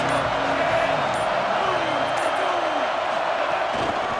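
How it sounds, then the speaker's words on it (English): A steady stadium crowd roar in a college football video game, CFB27, rumbling evenly throughout beneath play-by-play commentary. "The crowd gets behind this defense."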